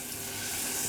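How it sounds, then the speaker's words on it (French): Caramel cooks in a saucepan with a steady, close sizzling bubble that fills the brief moment evenly, with no voices over it. "On va laisser cuire gentiment et remuer de temps en temps."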